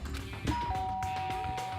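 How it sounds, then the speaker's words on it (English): Doorbell in the Danganronpa video game, a clear ding-dong chime with two sustained tones ringing out over soft background music, no talk. "Oh, it's a doorbell."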